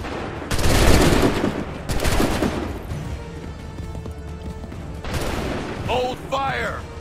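Musket volleys in Assassin's Creed 3, two loud crackling fusillades of massed gunfire close together, then a softer third burst, with shouted commands and hoofbeats around them.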